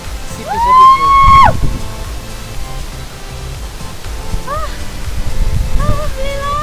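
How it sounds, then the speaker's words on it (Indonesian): Sipiso-piso waterfall gives a steady, distant broadband rush under the whole stretch, with a few thin whistling tones over it and faint voices now and then. "Air terjun si Piso-Piso."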